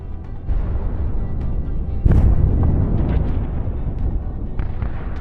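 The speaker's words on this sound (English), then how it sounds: "This tank is trying to break through under the strikes of Ukrainian artillery." Ukrainian artillery shells strike near a Russian tank trying to break through toward a village, heavy low rumbling blasts with a sharp, loud impact about two seconds in, then further thuds and crackling debris rolling on.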